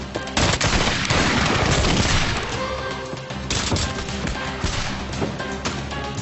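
A firing squad's volley of gunshots cracks out in a loud burst of overlapping shots, followed by a second ragged burst a few seconds later, close and echoing, as in a 1994 frontier drama.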